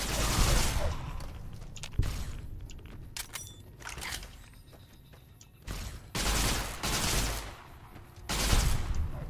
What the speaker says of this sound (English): What are they firing at me with? Oh, pipe rifles.